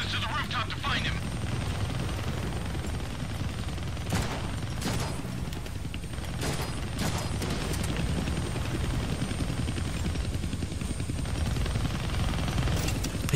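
A steady, loud helicopter rotor drone in the video game Deadpool fills the scene, with bursts of rapid gunfire breaking through at intervals.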